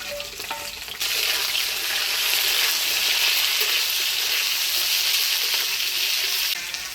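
Eggplant dropped into hot oil already tempered with spices and potato, breaking into a loud, steady sizzle that holds evenly and close for several seconds before easing off at the end; no voices.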